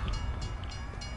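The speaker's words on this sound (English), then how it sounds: "Fucking train." In the Cold War Zombies map Mauer der Toten, a train rolls by with a low rumble and rhythmic clatter of wagons, heard briefly and up close without speech.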